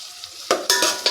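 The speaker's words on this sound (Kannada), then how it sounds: "ನೀಟಾಗಿ ಒಂದು 10 ನಿಮಿಷ ತರಕಾರಿ ಎಲ್ಲ ಬೇಯೋವರೆಗೂ ಬೇಯಿಸ್ಕೊಬೇಕಾಗುತ್ತೆ" Vegetables frying in a hot pan for fried rice, a soft sizzle with several bursts of stirring scrapes, close and fairly loud, no voices.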